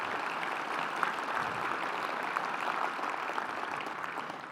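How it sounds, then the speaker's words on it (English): An audience at a state STEM education and workplace partnerships summit claps in a steady, sustained round of applause that stays even and fairly loud throughout, with no talking over it. "we can give you a round of applause"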